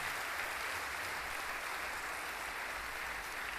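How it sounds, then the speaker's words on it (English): Steady crowd applause, a dense wash of clapping that holds evenly throughout with no voices rising above it. "give them a resounding round of applause for their efforts"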